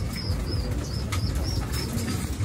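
Hungry pet pigeons flap into their coop, with soft wing flutters and quiet coos over a rough, windy background for a couple of seconds.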